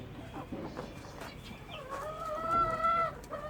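Young roosters cluck and call in a coop, quiet scuffling at first, then a few close, wavering crowing-like calls that rise over the low background.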